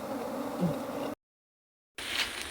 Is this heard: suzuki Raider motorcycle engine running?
no